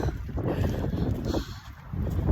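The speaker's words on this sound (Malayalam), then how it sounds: "നല്ല കാറ്റുണ്ട്." Strong wind gusts across an open outdoor ground, buffeting the microphone with loud, rumbling blasts that rise and ease over a couple of seconds.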